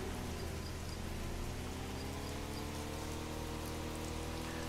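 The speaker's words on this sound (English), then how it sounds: "And it's raining today." Steady rain falls in the video game Schedule I, a dense, even hiss of drops spattering on surfaces that continues without a break at moderate volume, with no voices over it.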